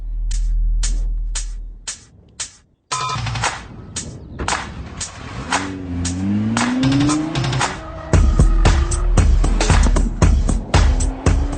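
Nissan Juke R and a 2012 Nissan GT-R driven on a track, with engine roar rising and falling, sharp gearshift and exhaust pops, and whining tonal revs building up, loud and close with no talking.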